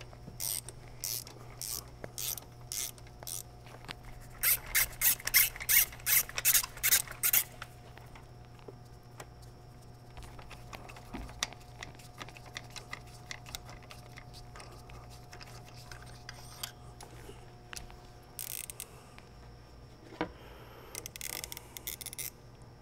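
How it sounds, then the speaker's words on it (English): Ratchet working on a spark plug in a 2015 Dodge Durango engine: bursts of rapid clicking from the pawl, loudest early on, then scattered quieter clicks and tool sounds against a low steady hum. "we're just gonna pull this other plug out beside the neighboring cylinder"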